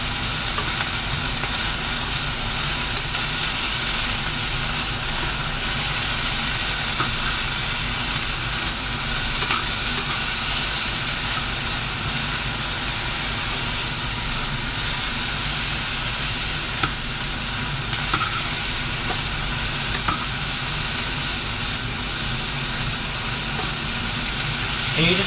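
Carne asada for tacos sizzles steadily in a pan, a dense continuous frying hiss with scraping and stirring noises scattered throughout, close and even in loudness from start to finish.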